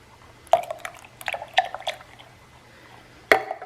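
Evaporated milk splashes into a bowl in a few short, separate bursts with quiet gaps between them, wet and close.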